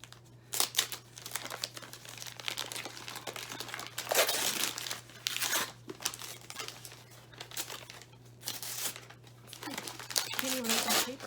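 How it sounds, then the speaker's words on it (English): Gift wrapping paper crinkles and tears off an advent book in repeated bursts, close up and fairly loud, with a low steady hum underneath and a voice speaking briefly near the end. "I can't even open the paper."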